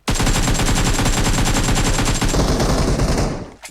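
Rapid automatic gunfire from PUBG Mobile, a dense, loud, continuous burst of shots lasting several seconds before cutting off, with no talk over it.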